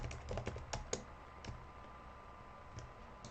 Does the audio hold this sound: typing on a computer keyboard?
yes